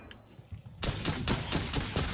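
Rapid gunfire aimed at a self-destructing zombie in the video game Welcome to ParadiZe: after a quiet start, a loud run of evenly spaced shots rattles out in quick succession.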